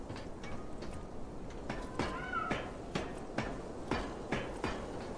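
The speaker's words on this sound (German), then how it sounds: "Ich höre eine Katze, glaube ich." A cat meows a few times in the video game Lies of P over a low background hum, with regular sharp knocks sounding throughout.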